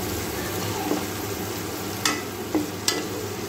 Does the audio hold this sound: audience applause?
no